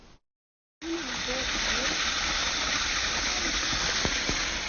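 Waterfall on the Eaton Canyon trail, a steady broadband rush of falling water that starts after a brief gap and holds constant and fairly close throughout.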